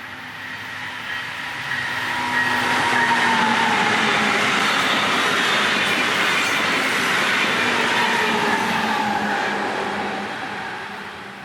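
Brightline passenger train BLF 722 in green livery, heading south, rolls in and slows for its downtown stop, a loud steady roar of wheels on rail with faint squeals, building up and fading slightly toward the end.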